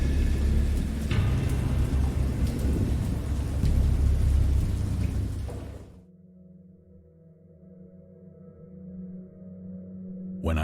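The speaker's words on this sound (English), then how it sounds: "I know that I heard pearls of thunder and other tones which nature utters only in her wildest moods." A thunderstorm rumbles with heavy, steady rain and low thunder for several seconds, then cuts abruptly to a quiet, droning tone before a brief return of noise at the very end.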